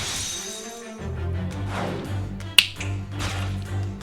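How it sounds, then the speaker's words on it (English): A single sharp finger snap made right up close to the microphone, brief and crisp, set against a quiet background hum with some low tones. "I'm like trying to snap close to the mic."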